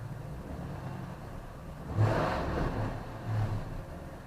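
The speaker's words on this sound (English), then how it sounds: "Let's give it just a little bit of a rev." A car engine idles steadily, then gives two short revs, the first around the middle and a smaller one near the end, heard close by.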